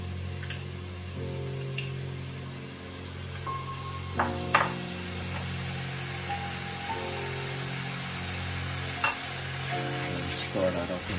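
Tomato paste sizzles and fries in a pan for moussaka while a utensil stirs and scrapes it in irregular bursts, with steady background music underneath throughout.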